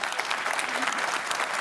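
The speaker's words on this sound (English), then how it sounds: "So a big round of applause for my team." A big round of applause from a conference audience at a NATO public forum, steady clapping from a hall full of people, fairly distant and even throughout.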